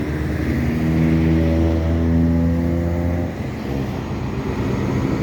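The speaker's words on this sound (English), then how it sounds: "Nice good gas truck, yeah." A 1992 gas truck cruising on a highway, its engine droning steadily with strong low harmonics that rise and hold, then shift around the midpoint, under continuous road and tire noise.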